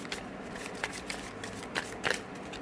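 Tarot cards being shuffled by hand, a soft papery riffling with several sharper flicks and snaps, close and fairly quiet, with no voice over it.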